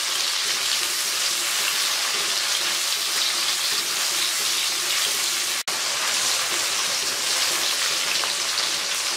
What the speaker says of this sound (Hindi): अब इन दोनों चीज़ों को मैं भून लूँगी।